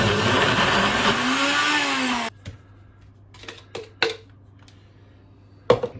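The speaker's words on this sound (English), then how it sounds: "I'm going to try and mix in NutriBullet because I don't have a KitchenAid." A NutriBullet blender churns chocolate chip cookie dough with a loud, steady motor whir that winds down after about two seconds. A few clattering knocks and thumps of kitchen handling follow in the quieter stretch.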